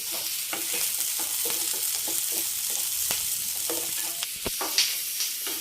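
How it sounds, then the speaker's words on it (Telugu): Tomatoes frying in a pan for a tomato chutney to serve with pumpkin dosas: a bright, continuous sizzle broken by repeated sharp stirring clacks and scrapes of a spoon against the pan, close by with no talking. "ఇది కొంచెం వేగిన తర్వాత టమాటాలు వేసి వేయించుకొని"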